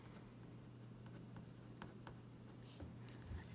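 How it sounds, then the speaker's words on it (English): Pen or pencil writing a name on paper, quiet scratchy strokes in short bursts over a steady low hum, close and faint. "the first thing actually I'm going to do is write my name."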